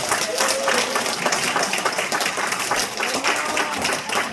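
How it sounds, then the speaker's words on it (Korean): A church seminar audience claps together, a sustained, fairly loud wave of applause filling the room with a few voices underneath. "박수 쳐주세요"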